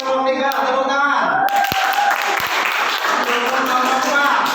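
Applause from a class of students cheering on group 3 starts about a third of the way in as a loud, dense, continuous clapping. A voice is heard at the start and keeps talking under the clapping.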